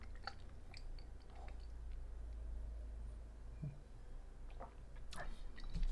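Quiet close-up chewing of crunchy white cheddar cheese, soft wet crunches and squishes scattered over a few seconds with no talk.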